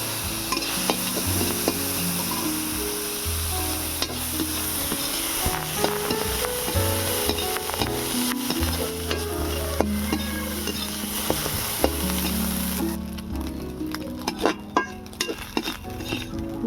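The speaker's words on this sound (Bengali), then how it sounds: "কোচানো নারকেলটা ভেজে নেওয়া" Grated coconut frying and being stirred in a pan for chana dal halwa, with steady sizzling, frequent scraping spatula strokes and occasional clinks of metal utensils, close and continuous without talk.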